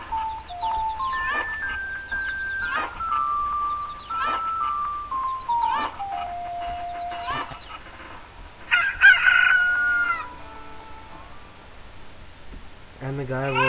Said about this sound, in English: Once you get all 10, they'll start turning into chickens.